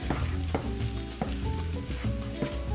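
A vegan filling of tofu sizzles loudly in a hot pan while being stirred, with rhythmic scrapes and knocks of the utensil against the pan over a constant frying hiss, close up and without speech.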